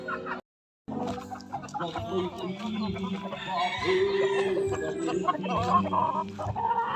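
Backyard chickens cluck and murmur steadily after a brief silent gap, a dense, close flock sound with overlapping calls, while a person talks over the birds throughout.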